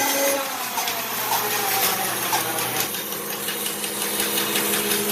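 A bandsaw resawing red oak gives a steady, loud machine drone with a humming, rattling tone throughout, close by, and no talking.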